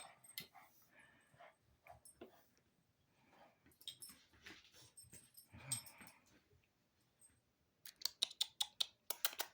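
A new pet dog makes scattered high whines and whimpers alongside sniffs and movement noises at close range, ending in a rapid burst of sharp, squeaky yelps.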